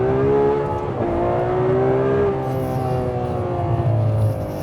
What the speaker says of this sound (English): The heart and soul of this car, of course, is this engine.